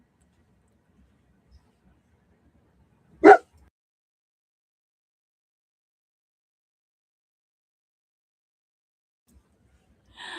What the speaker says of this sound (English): I think he sees a cat or something outside and he's barking at it